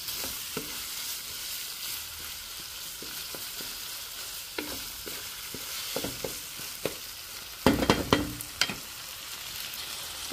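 Spicy bopis frying in a pan with a steady sizzle, broken by repeated scraping stirs and a louder cluster of clatter toward the end, close and with no talk.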